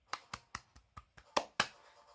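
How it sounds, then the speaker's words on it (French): A small team claps hands after finishing an escape game, about seven sharp, separate claps in a loose uneven rhythm, close and fairly quiet, the last two louder. "Allez, on peut s'applaudir."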